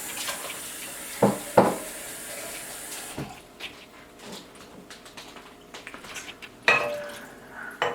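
Water splashes and sloshes in a pot while rinsing out chili, with a couple of sharper clanks, then quieter trickling and rinsing sounds, close by.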